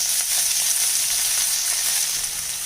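Coriander leaves frying with chili and asafoetida in a hot pan, giving a loud, continuous bright sizzle with no talking.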